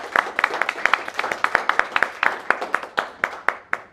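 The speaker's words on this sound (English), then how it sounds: "can you give her a round of applause?" A small audience at a short showcase talk claps after a question session, with sharp, distinct handclaps in an uneven rhythm that stay fairly loud and steady throughout.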